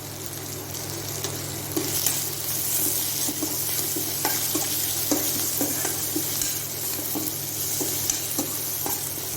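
Onions and tomatoes sautéing with a little salt in a pan make a soft, steady sizzle close by, broken by repeated light scrapes and clicks of a spatula stirring.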